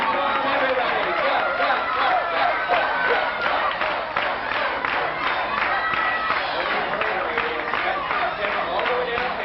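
A large crowd cheers and shouts continuously from bleachers during a race at Universal Studios Florida, a dense roar of many voices with no pauses, steady and loud throughout.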